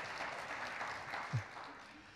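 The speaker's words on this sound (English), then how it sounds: "You can give him a round of applause" An audience applauds during a church talk, a faint, distant wash of clapping with a soft low thump near the middle.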